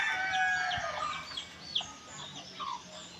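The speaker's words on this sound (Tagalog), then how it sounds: "Ang mga manok ay dinisagtigil sa likod bahay." Chickens cluck and a rooster crows in a backyard, moderately distant and fairly faint, amid outdoor background noise with no talking.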